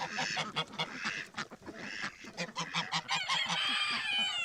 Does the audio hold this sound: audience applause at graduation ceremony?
no